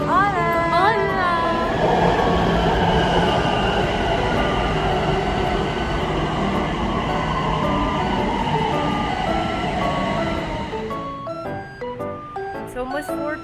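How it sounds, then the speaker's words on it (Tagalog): A Bangkok SkyTrain pulls into a station with a loud steady rumble and a rising then falling electric motor whine, easing off as it slows, with voices talking over it. "Padating na yung SkyTrain. Yung train. Yan na ang train, guys."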